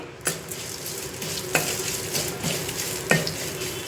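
Spices, asafoetida and turmeric sizzle and crackle in hot oil in a kadai close up, with a spoon scraping and stirring the pan a few times.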